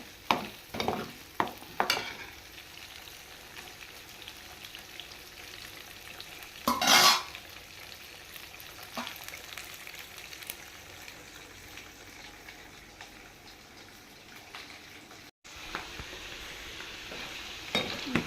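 Prawns fry crisp in hot oil in a pan, a continuous crackling sizzle with bursts of louder spatter and occasional scraping stirs, close and fairly quiet.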